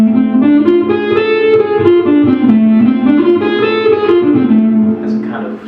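An electric guitar plays the A harmonic minor scale slowly, one note after another in a steady, even line with a slightly overdriven tone. Each note is close and sustained, and nobody talks.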